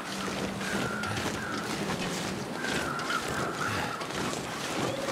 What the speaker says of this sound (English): It's fairly windy out.